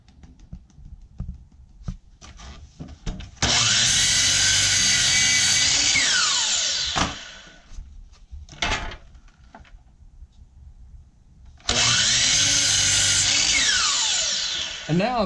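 A power saw cuts wood for a carpenter bee trap in two loud, close bursts of high whine, each ending as the blade spins down, with quiet handling and faint talk between cuts.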